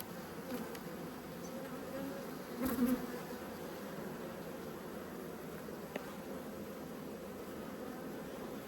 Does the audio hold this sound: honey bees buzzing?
yes